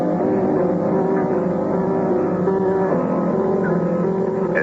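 A ship's engines rumble steadily as a sailing ship gets under way, a continuous, fairly loud low drone with faint creaks and water wash layered over it in a dramatized scene.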